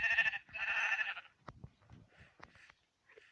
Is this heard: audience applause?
no